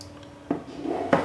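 A utensil stirs tandoori marinade ingredients of mint sauce and lemon juice in a bowl, making two distinct knocks against the bowl with soft wet scraping between them, close and fairly quiet.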